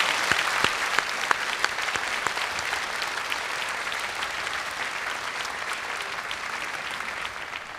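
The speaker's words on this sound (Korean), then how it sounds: "박수해 주시기 바랍니다." A church congregation at a special dawn prayer service applauds visiting choirs from China and Indonesia, a broad, sustained wash of clapping from a large hall with a few crisp claps near at the start, steady and moderately distant.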